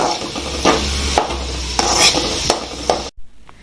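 Food frying in oil until brown, a steady close sizzle broken by several scraping stirs and clinks of a utensil against the pan, ending abruptly.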